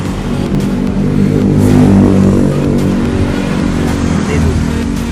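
A Honda CBR 250RR motorcycle engine with a leaking head seal and rough, misfiring idle runs loud and close, a steady throbbing drone that swells slightly in the middle.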